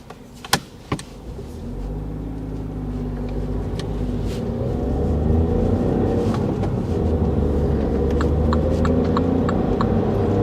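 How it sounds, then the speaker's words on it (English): A 5-door Mini Cooper's three-cylinder engine starts with a couple of sharp clicks, then settles into a steady cabin drone that swells as the car pulls away and rolls along, with faint clicks and rattles on top. "this strange little 3-cylinder engine note, which is quite quirky"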